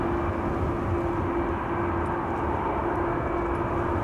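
An aircraft tug tows a KLM Airbus A330 across the apron, a steady broadband engine rumble with a constant droning tone, continuous and fairly close, with no voices.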